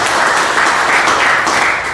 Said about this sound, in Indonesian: Kasih tepuk tangan yang meriah untuk Tuhan